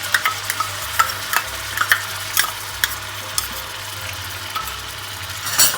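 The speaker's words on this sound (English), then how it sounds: "To this we'll add the ginger chili and garlic paste." Ginger, chili and garlic paste sizzles loudly in a pan over medium heat while being stirred for restaurant-style dal makhani, with steady frying hiss broken by repeated scraping strokes and no talking.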